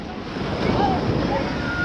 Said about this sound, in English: Big waves are coming in.